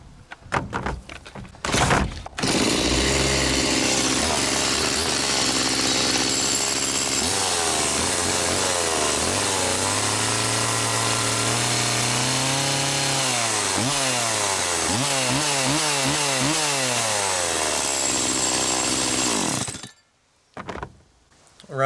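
A STIHL chainsaw engine, after clutch assembly and oiler bearing replacement, runs loud and steady for most of the clip, its pitch rising and falling with throttle revs, then cuts off near the end.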